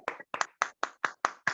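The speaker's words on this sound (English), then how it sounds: "You can hear my clapping." A single person's hands clap seven times in a steady, even rhythm, close and crisp with short silences between the claps and no talking.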